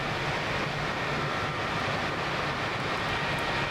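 Jet engine of an F-4E Phantom II spooling up during a cold start in the DCS flight simulator, a steady, loud broadband roar and whine holding evenly throughout with no voices.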